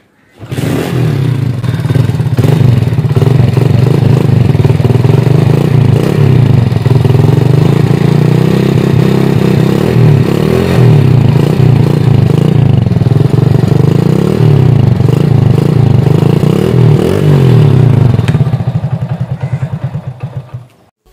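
A Honda CD Deluxe motorcycle idles and revs with its old silencer fitted, a loud, close, steady engine thrum with a rhythmic low putter and mechanical clatter that cuts off at the end.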